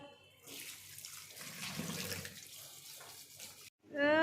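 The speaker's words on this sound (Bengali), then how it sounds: "চলো মাছগুলো সব ধুয়ে নিয়ে" Tap water running into a kitchen sink while fish are washed, a steady rushing splash that swells and fades over several seconds, then cuts off briefly before returning louder, with no voices.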